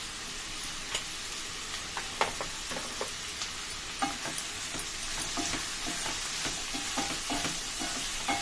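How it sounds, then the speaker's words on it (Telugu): Chopped onions sizzle steadily in a frying pan after salt goes in, a constant close hiss broken by occasional clicks of a stirring spoon, with no talking. "ఉల్లిపాయలు కొంచెం మగ్గనియాలి"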